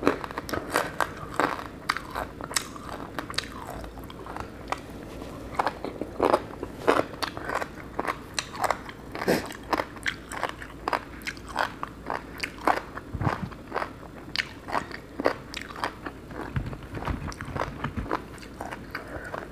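Crisp, repeated crunching bites and chewing of Thai papaya salad with fermented fish sauce, loud and close, with sharp crackling bursts spread steadily across the stretch and no talking.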